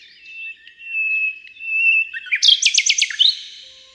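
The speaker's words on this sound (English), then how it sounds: "its song is one of the most complex and emotional in the bird world" A nightingale sings alone and close: a long thin sustained whistle gives way to a rapid series of loud, sharp repeated trilled notes ending in a brief flourish.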